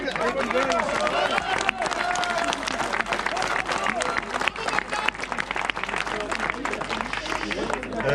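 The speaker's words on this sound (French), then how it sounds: "Allez, on les applaudit." A crowd at a French local race awards ceremony applauds trophy winners, sustained loud clapping filling the whole stretch with murmuring voices and chatter mixed in.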